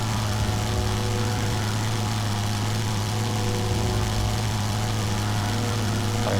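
Steady droning rotary engine of a WWI biplane at night in the flight game Wings Over Flanders Fields, an even continuous propeller hum with no voices.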